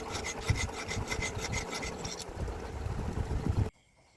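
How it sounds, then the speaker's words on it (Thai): Rapid, rhythmic rasping of sandpaper rubbing against a handmade metal ring made from a 1980 Thai 50-satang coin, close and continuous, stopping abruptly near the end. "เอาไปขัดกับกระดาษทราย กระดาษทรายขัดลบคมลบเหลี่ยมลบรอย"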